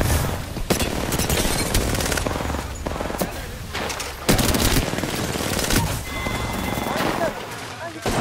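Rapid automatic gunfire in the Apex Legends video game, in sharp repeated bursts over steady in-game noise, with a player's voice talking over it.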